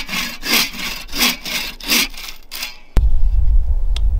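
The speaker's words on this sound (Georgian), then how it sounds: "ესეთ ხელის ხერხს." A homemade hand saw cuts through wood in about six rhythmic back-and-forth rasping strokes, up close and loud, followed by a sharp knock and a low rumbling handling noise.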